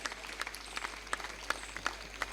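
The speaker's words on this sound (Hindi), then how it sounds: "एक बार जोरदार तालियों के साथ हमारे सभी अतिथियों का स्वागत करें।" Audience applause welcoming guests at a cultural program with specially-abled children, a crowd clapping with sharp individual claps standing out over a steady wash of hands, moderately loud and without talk.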